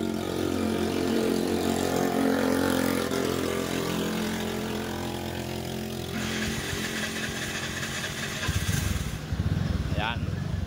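A Suzuki Burgman scooter engine, just overhauled and repaired, cranks and catches, then settles into a steady buzzing idle, loud and close, with a person talking over it.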